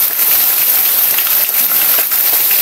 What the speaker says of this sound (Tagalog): Dire-diretso ang ulan.